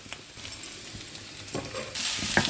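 Potato and capsicum pieces frying with mushrooms in a pan make a soft sizzle, with a few scraping stirs, and the frying grows louder and brighter near the end.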